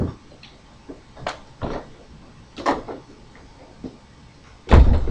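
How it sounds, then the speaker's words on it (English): An indoor room door swings open on its own, giving a few soft knocks and creaks spread out over several seconds, then a louder thump near the end, with no voices. "Sorry, that was my door. I don't know why it opened, but it did."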